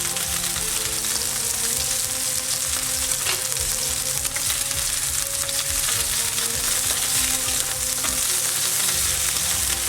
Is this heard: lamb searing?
yes